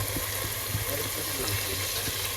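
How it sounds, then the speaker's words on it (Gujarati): Water poured into a cooking pot of pomfret and prawn curry, a faint, steady gush over a low background hum. "પાણી નાખે છે."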